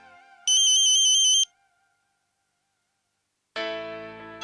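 A phone ringtone plays as a call is placed: a bright repeating electronic trill for about a second, then silence, then a second loud tonal ringing burst.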